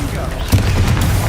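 Flipendo knockback spell cast in the Hogwarts Legacy video game, a single punchy thump midway through amid busy battle noise and a brief shouted voice.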